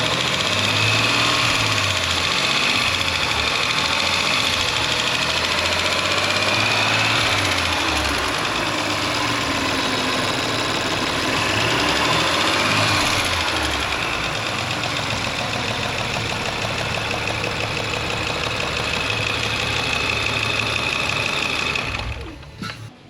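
The 2.9 turbo engine of an Audi RS5 with a fault, running with a harsh, rough mechanical clatter and a steady whine, loud and close for about twenty seconds before it cuts off at the end.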